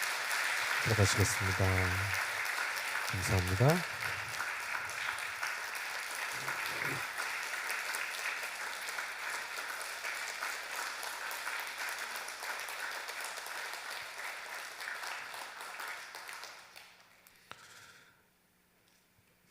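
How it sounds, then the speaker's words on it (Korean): A church congregation at a Sunday service breaks into loud, sustained applause that fills most of the clip, with a voice speaking briefly near the start, before the clapping fades out near the end. "인사하실 때 큰 박수로 함께 하시겠습니다"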